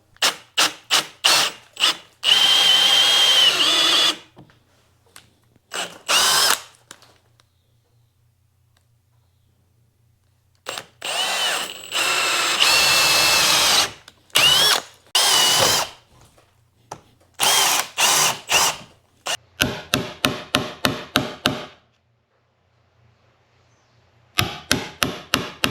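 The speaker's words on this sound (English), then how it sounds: "Just take a big drill bit and drill and chisel" A large drill bit bores into timber for a timber-frame joint in repeated bursts, the motor whining loud and close, with short pauses and quick on-off pulses between longer runs.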